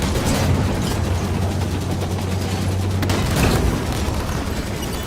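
Heavy battle gunfire rolls continuously around a Scorpion tank in Halo 5, dense overlapping shots and booms under a sustained low rumble, loud and close throughout with no pauses.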